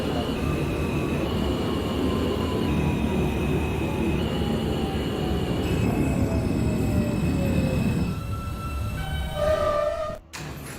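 Simulated NYC Subway R160 train on the R line to Forest Hills-71 Av in the OpenBVE game runs with a loud steady rumble and gliding motor whines, then squealing tones as it slows, ending with an abrupt cut near the close.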